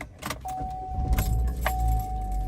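A car engine cranks and catches after its throttle body was cleaned to fix a P2135 fault, settling into a low steady idle with a thin whine, while keys jangle briefly near the start.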